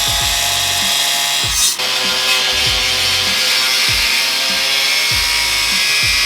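A power tool cutting into metal on a truck gives a loud, continuous grinding whine, close by, broken by a regular rhythm of repeated strokes, with no talking.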